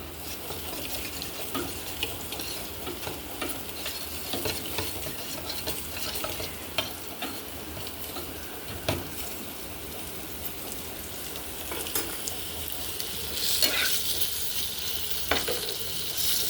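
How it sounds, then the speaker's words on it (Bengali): Potato, raw banana and papaya sizzle in a pan while a utensil stirs them, giving repeated scraping knocks over a steady frying crackle and a brief louder burst near the end. "আলু, কাঁচকলা আর পেঁপে ভাজা হয়ে গেছে।"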